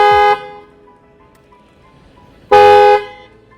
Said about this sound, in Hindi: तो जो हॉर्न की बेसिकली आवाज़ है वो काफ़ी ऐसे भर के निकल के आती है, क्योंकि ड्यूल हॉर्न्स इसके अंदर इंस्टॉल किए हैं